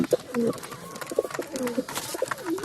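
Several pigeons with colds coo at once in low, warbling calls, layered over a busy background of scratching and fluttering.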